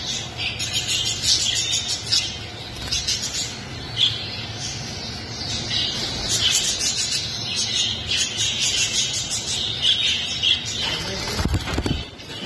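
English and European lovebirds in a bird shop chatter and chirp continuously in a dense, busy flock, with wing flutters and a few louder squawks scattered throughout.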